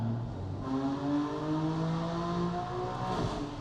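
BMW F80 M3 with a single turbo kit revving hard on a dyno, a sustained loud engine drone with rising harmonic tones and steady throttle, no talk.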